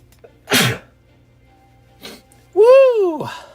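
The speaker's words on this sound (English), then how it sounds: "Oh, I got to sneeze again, though." Someone sneezes with a sharp, loud burst and then makes a shorter follow-up sound, close to the microphone. A drawn-out rising and falling vocal exclamation comes right after.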